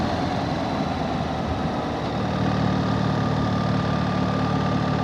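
A BMW 1300 GS motorcycle idles on the way to the Malmedy carnival in Belgium, giving a steady, close, even engine rumble that holds for the whole stretch without revving.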